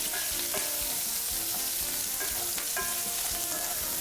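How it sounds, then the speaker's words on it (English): Bacon and onions fry in a pan with a loud, even sizzle and steady crackling, broken by brief scraping stirs, with no talking. "Bacon is starting to brown. Onions are browning around the edges"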